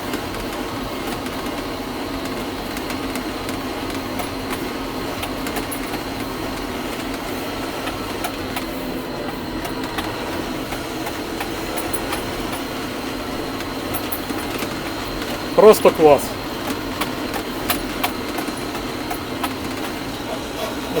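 Steady low engine drone of a John Deere 6310 tractor heard from inside the cab, muffled and even throughout, with a brief clatter near the end and a voice speaking briefly.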